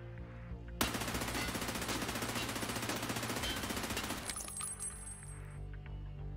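A long burst of P90 full-auto gunfire from Escape From Tarkov, fired standing inside the hideout. It is a rapid, steady stream of close, loud shots, followed by faint tinkling of spent casings.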